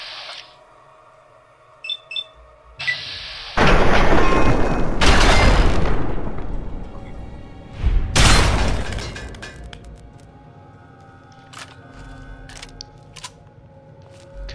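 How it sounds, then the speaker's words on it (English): A turret blown up in Fallout 3 sends out a loud, crashing blast, then a second burst. Quieter electronic beeps and clicks sit in the background, with no talking. "Alright, we'll just blow the turret."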